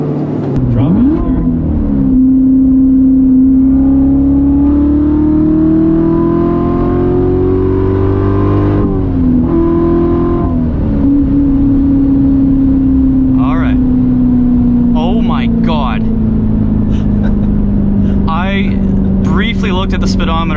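A C7 Corvette Z06 with a seven-speed manual accelerates hard in third gear, its loud engine note climbing steadily, then a brief shift or lift and continued strong pull, heard up close from inside with voices over it.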